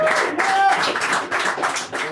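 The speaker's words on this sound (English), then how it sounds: "Give him a massive round of applause." A small live-music audience claps for an artist taking the stage at a gig, with uneven clapping close by and faint voices mixed in.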